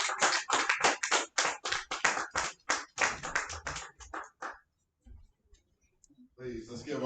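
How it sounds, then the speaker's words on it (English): A small live audience claps in quick, sharp, close-sounding bursts that thin out and stop, followed by a short quiet gap before a voice starts. "Let's clap it up, folks."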